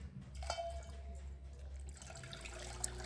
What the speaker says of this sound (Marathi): आता मी ह्याच्यामध्ये पाणी घालून